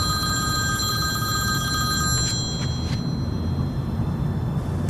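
A telephone rings with a steady electronic trill over a low background rumble, continuing for a couple of seconds before fading under the noise.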